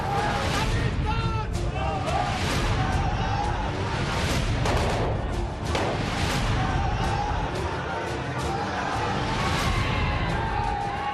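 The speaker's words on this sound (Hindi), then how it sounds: "भीड़ शोर मचा रही है और पुलिस वाले ताबड़तोड़ हवाई फायरिंग कर रहे हैं।" Police fire shots into the air amid a rioting crowd during violence in Patiala, Punjab: loud, dense gunfire bursts and booms over constant roaring crowd shouting, close and continuous throughout.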